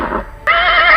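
A horse neighs as a sound effect, a loud, close, bright whinny after a brief softer lead-in, alone without talk.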